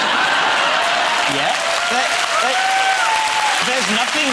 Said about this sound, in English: No one else got a round of applause.